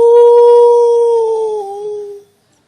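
A human voice imitates a wolf howl from a far hillside valley, one loud sustained howl lasting about two seconds that slides slightly lower before cutting off.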